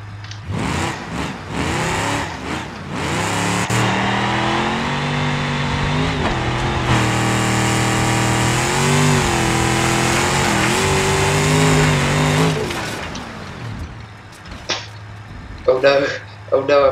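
The SP Rock Basher in BeamNG Drive drones with a mid-pitched engine that rises and holds a sustained rev through the middle, close by, with someone talking over the start and end.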